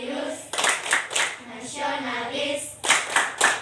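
A standing group claps a rhythmic patterned clap in unison, sharp bursts of hand claps in short sets separated by brief pauses, with voices chanting along between the claps.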